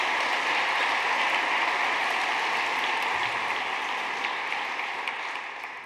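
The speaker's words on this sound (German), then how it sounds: "Applaus" Audience applause at a university's academic ceremony, a dense, steady wash of many hands clapping together that holds evenly for several seconds and then begins to fade toward the end, with no voices over it.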